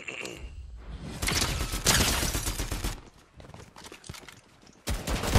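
Gunfire in the video game Fortnite: dense bursts of automatic shots and a sustained fusillade at close range, easing into scattered shots before a fresh loud burst at the end.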